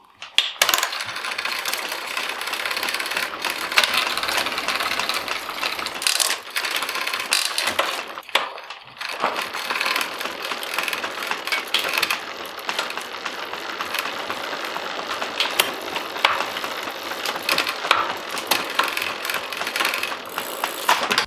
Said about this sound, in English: after going through the gears and obviously hitting the brake to stop the wheel